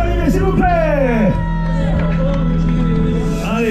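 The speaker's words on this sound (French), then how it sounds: "Allez, on peut applaudir Thierry à l'arrivée, s'il vous plaît." A crowd cheers and whoops for a mountain biker arriving at the finish of the Roc d'Azur Rando Roc Noire ride, loud and continuous shouts and yells rising over a steady hubbub of voices.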